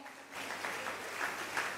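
Audience applause at a school distinction awards ceremony honouring 2019 WASSCE candidates, as a young award recipient is called up; a steady, fairly close wash of clapping from a crowd lasting a couple of seconds.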